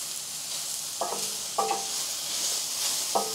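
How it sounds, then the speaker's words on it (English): Mushrooms for a mushroom sauce sizzle steadily in a hot pan while a utensil stirs them, adding a few distinct scrapes and knocks over the continuous close frying hiss. "And see how as soon as I start moving them around, it starts releasing liquid."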